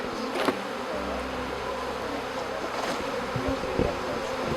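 A dense, steady buzz of many honey bees fanning their wings close by, with a few louder wingbeat passes rising briefly above the constant hum.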